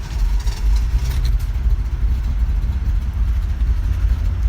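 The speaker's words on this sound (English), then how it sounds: "So this is just idling." A warm 1971 Datsun 240Z engine idles in neutral with the parking brake set, a steady low rumble held close and loud throughout with no talking.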